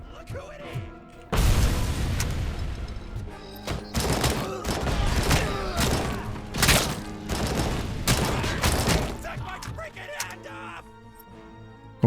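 Grenades burst in the RoboCop: Rogue City video game as a rapid run of loud, heavy blasts mixed with gunfire, coming in repeated close bursts, with a voice talking underneath.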